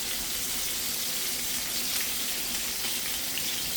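Sausage patties fry in a pan with a steady, even sizzle that holds at the same level throughout, close and fairly quiet, with no voices.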